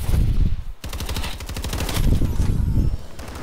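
Rapid automatic gunfire in the video game Call of Duty: Advanced Warfare during a gun game match, one fast, loud burst of shots after a brief pause, with almost no talking.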